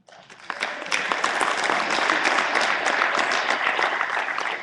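An audience at a Galveston County candidates' forum claps steadily for several seconds, a dense indoor applause that starts abruptly and holds at an even, fairly loud level without voices.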